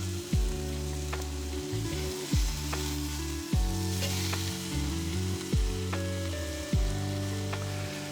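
Jerk chicken searing on a very hot grill: steady crackling sizzle under a repeating pattern of low, descending tonal swoops roughly every second and a half, with no voices.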